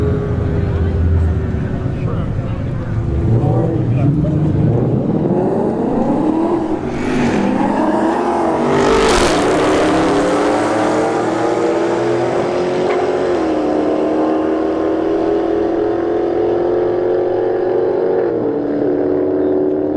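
An S197 Mustang drag racing car accelerates hard down the strip, its engine note climbing loudly through several gear changes and holding a strong, steady roar as it pulls away, with track announcing underneath.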